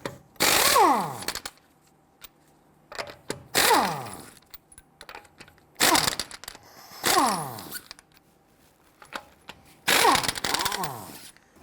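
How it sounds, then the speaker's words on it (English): Power tool with a 21mm socket taking lug nuts off an INFINITI G37 X front wheel: five loud, separate impact bursts, each with a falling whine, with short quiet pauses and small clanks between them. "loosen and remove your lug nuts."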